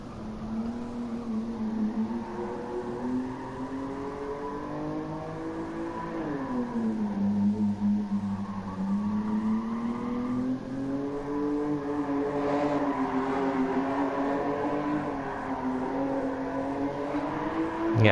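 A car engine in Gran Turismo Sport drones and revs through a lap, its pitch rising, dipping and climbing again with gear changes, loud and continuous from start to finish.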